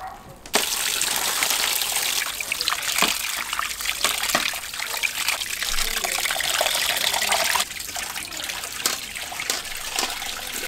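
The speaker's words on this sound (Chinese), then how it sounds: "把它捞出来，清洗一下，把这上边的血沫冲洗一下" Blanched beef being rinsed under running water from a tap in a kitchen, a steady close gushing and splashing stream that starts abruptly and continues, easing slightly toward the end.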